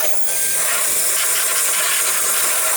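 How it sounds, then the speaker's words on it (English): A small battery-powered fan blower runs steadily at close range, blowing air over a freshly painted RC car body with a continuous loud airy hiss that stays constant throughout. "I got this little fan thing."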